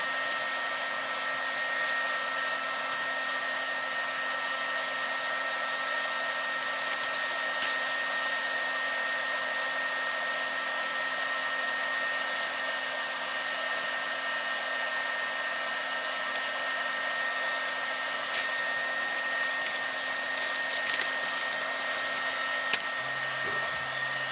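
A heat gun set to 400 softens a Kydex knife sheath fold, blowing a steady, even whooshing hum with a faint high whine, continuous and close throughout with no talking.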